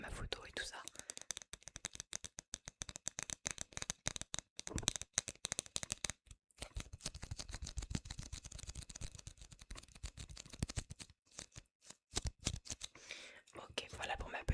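Small plastic student card handled close to the microphone for ASMR, giving crisp tapping, flicking and scratching sounds in quick bursts with brief pauses, while a soft voice speaks under them.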